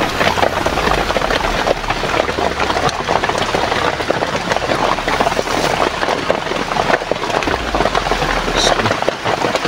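Steady rain falls outdoors, a dense continuous patter on surfaces that stays loud and even throughout, with a faint low engine-like hum underneath and no talking.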